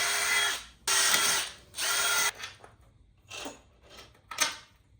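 A power tool bolts in a handbrake part on an Aussie 7 car build: three loud, sustained whirring bursts, then several shorter, fainter spurts and clicks close by, with no voices.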